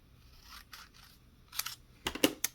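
Scissors snip through a small piece of paper craft stock, a few quick crisp cuts close by that grow sharper and louder toward the end, with no talking.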